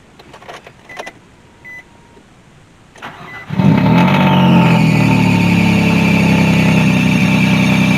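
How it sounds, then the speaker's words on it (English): A Nissan Maxima engine cranks briefly and catches, then settles into a steady loud idle, with faint clicks and rustling before the start. "I'm gonna get a nice little startup."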